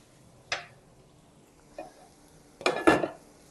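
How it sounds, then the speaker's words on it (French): A spoon scrapes and knocks against a pan while ground beef and tomato paste are stirred, giving a few isolated clinks followed by a short cluster of louder scraping strokes, close and with no talk. "Voilà, on va mélanger"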